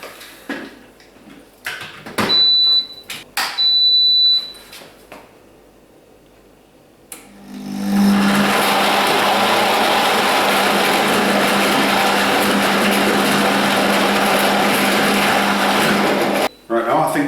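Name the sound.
Alfawise 2000W high-speed blender blending frozen mango, almonds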